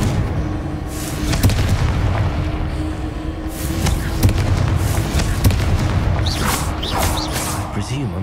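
Confringo blasting spell explosions in the video game Hogwarts Legacy, several loud sharp booms and crackling bursts in quick succession over a rumbling bed of game effects and music.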